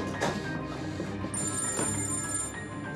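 A mobile phone rings in a Turkish drama scene, its electronic ringtone repeating in bursts over a dense background, close and fairly loud for the full three seconds.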